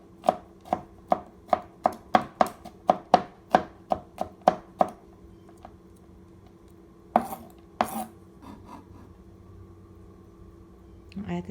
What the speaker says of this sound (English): I'm going to chop 1 clove of garlic.